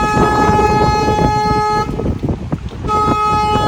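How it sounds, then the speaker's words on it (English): A boat horn on the San Antonio River sounds in two loud, sustained tonal honks, the first long and the second shorter after a brief pause, near and over background noise. "But I honked my horn because of where we have just entered on the river."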